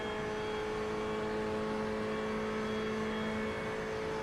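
Ferrari 488 GTE race car in iRacing, a steady, moderately loud engine hum holding an even pitch with a whirring tone, no clear revving, continuous and alone.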